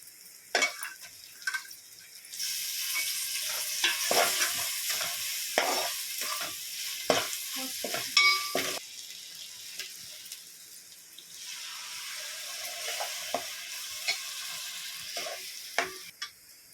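Ginger garlic paste frying in a pot for prawn dum biryani, bursts of loud crackling sizzle broken by utensil stirring and scraping, fading to a quieter spatter, no voices.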